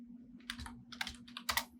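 Computer keyboard keys are tapped in short quick bursts while entering a search in the Chrome Web Store, faint and close over a low steady hum, with no talk.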